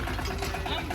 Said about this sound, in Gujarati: અને અત્યારે આ ટ્રેક્ટર જોઈ શકો છો અમારા સંજયભાઈ.